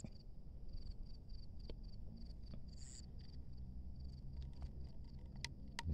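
A mole cricket chirps in a steady, faint high trill with brief pauses, close by in a quiet outdoor setting with low background rumble and occasional soft clicks.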